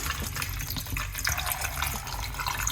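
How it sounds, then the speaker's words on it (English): Coconut water pouring steadily into a blender with beetroot juice ingredients, a continuous splashing, gurgling stream, close and fairly loud, no voices. "we're going to add a little bit of coconut water"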